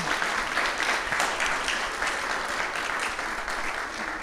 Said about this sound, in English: how about another round of applause for all 9 of this year's finalists?